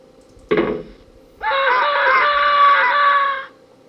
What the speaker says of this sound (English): Your brother's scream gets louder as you enter the upstairs hallway.